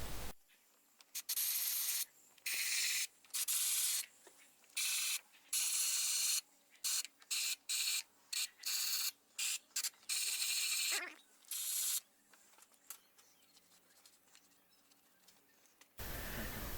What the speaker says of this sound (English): I'm gonna remove the oil from the spark plugs using a compressed air and a rag.